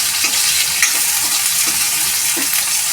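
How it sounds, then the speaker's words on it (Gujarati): Brinjal being stirred in a sizzling pan: loud crackling fry with repeated scraping strokes of a spoon, close and continuous. "હવે આપણે રીંગણને હલાવી દઈશું"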